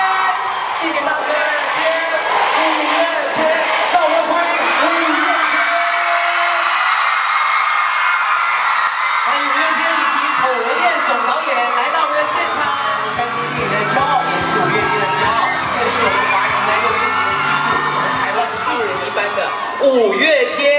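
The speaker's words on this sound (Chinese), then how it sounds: "给予热烈的掌声好不好？" A large crowd at a film premiere in Ximending cheers, whoops and yells continuously, with a loud swell of excited shouting. Voices over a loudspeaker talk throughout.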